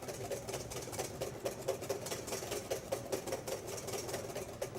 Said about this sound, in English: You do need to whisk briskly.